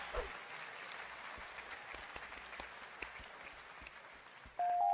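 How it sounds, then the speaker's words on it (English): Audience applause at a live presentation, a steady wash of many hands clapping at moderate distance, alone with no talk. "That deserves a round of applause."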